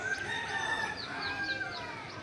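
Chickens on a house rooftop in Bangladesh keep up steady clucking and faint crowing calls against a mild background hiss, the birds at close to moderate distance.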